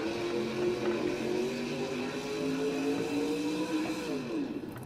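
A monster truck engine in the BeamNG video game at a Monster Jam speedway event in Stafford Springs, CT, revs loudly and steadily with rising and falling pitch, alone and close throughout.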